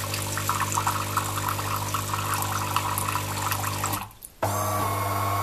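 A DeLonghi Autentica Cappuccino ETAM 29.660.SB espresso machine on first use dispenses its first hot water, a steady pump hum with gurgling liquid that briefly cuts out near the end and then resumes.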